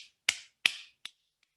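Three sharp, crisp hand claps in front of the chest ring out in a quiet room, spaced evenly, then a faint fourth tap trails off.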